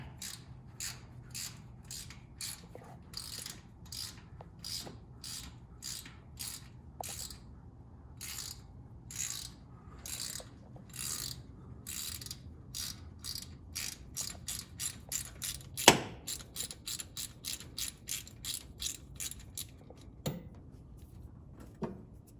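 A ratchet and socket removes studs from a 1971 Dodge Charger Super Bee, clicking in quick bursts of rapid pawl ticks that grow faster toward the end, with a few sharper metallic knocks, close and fairly quiet.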